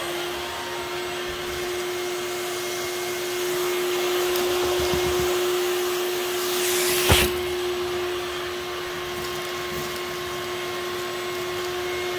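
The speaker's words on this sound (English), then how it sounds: "I'm actually gonna take a vacuum and clean that out" A vacuum cleaner cleans out the cabin of a 2007 Impala, running continuously with a steady whine and hum, close by, with a brief bump partway through as the nozzle knocks against something.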